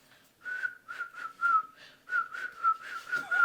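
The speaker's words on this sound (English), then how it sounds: "No, it's whistling." A person whistles a tune alone in a steady series of clear, sustained melodic notes with brief pauses between phrases, close and moderately loud.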